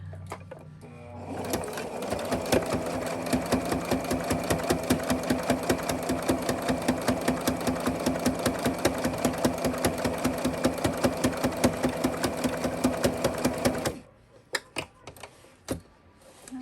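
A sewing machine stitches a fabric stocking in a fast, even run of mechanical clatter, up close and loud, then halts abruptly and leaves a few scattered thumps.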